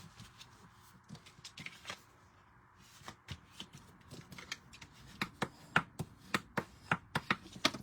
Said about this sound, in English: So, with this one, we're going to fold it in half.